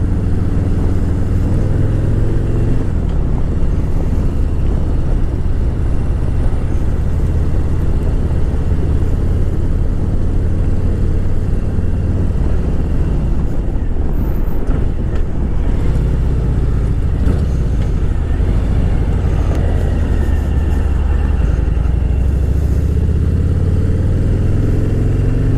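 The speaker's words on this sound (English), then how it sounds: "So my test ride on the Heritage Softail is coming to an end." A 2018 Harley-Davidson Softail Heritage Classic with a high-flow intake on a demo ride, its engine a loud, continuous low rumble with gentle shifts in revs under steady wind noise.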